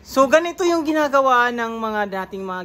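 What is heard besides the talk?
None of the usual background noises is heard.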